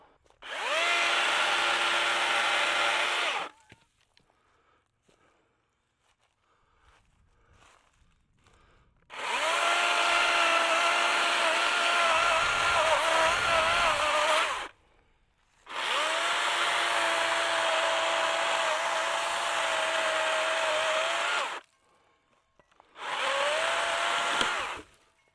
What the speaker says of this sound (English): I think I'm going to grab my chainsaw and see if I can get this right here taken off